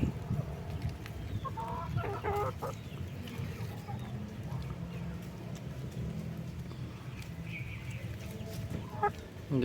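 Backyard chickens clucking steadily close by, with overlapping hen calls and soft murmurs forming a continuous farmyard chatter throughout.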